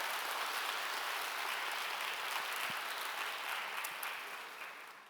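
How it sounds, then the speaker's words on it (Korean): A church congregation applauds to welcome two new ministers, a broad, even wash of many hands clapping at moderate distance that slowly fades toward the end. "여러분 크게 박수로 환영하시길 바랍니다"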